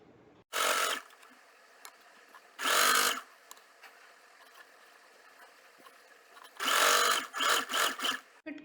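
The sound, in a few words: sewing machine stitching fabric edges to a pocket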